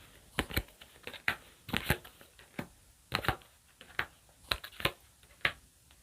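Tarot cards are shuffled and drawn in a quiet room: a run of crisp riffling and flicking bursts, close and fairly loud, arriving in irregular clusters with brief pauses between them, and no voices.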